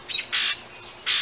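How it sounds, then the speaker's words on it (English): A bird squawks loudly and close by in three harsh bursts, each a fraction of a second long, with short quiet gaps between them and no talking. "This bird, man, this bird."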